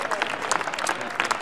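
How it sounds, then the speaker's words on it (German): Applause from members of the German Bundestag during a budget debate speech, a dense, crackling burst of clapping that runs steadily through the whole moment with a few sharper peaks. "Da können ja alle mal klatschen."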